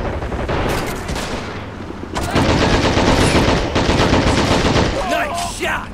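Dense gunfire and machine-gun bursts in the Men of War: Assault Squad 2 skirmish, rapid loud volleys that swell after a brief lull, with a faint voice briefly heard near the end.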